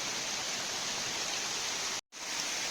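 Rain falling hard outdoors near Umteli Waterfall, a dense, steady wash of noise that cuts out for a moment before resuming, with no voices.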